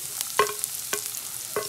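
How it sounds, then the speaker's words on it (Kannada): Finely chopped onion frying in a pan with garlic, a steady soft sizzle broken by a few sharp scrapes of a spatula stirring, close by and with no talk. "ಈಗ ಈರುಳ್ಳಿಯನ್ನು ಹಾಕೊಳ್ಳುತ್ತಾ ಇದೀನಿ"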